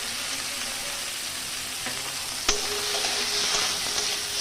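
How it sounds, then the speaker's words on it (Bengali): Chicken momo filling ingredients, salted, lightly frying in a pan, a steady close-up sizzle throughout with a sharp clatter midway as something is stirred or dropped in. "এটা আমি হালকা করে ভেজে ঠান্ডা করে নেব"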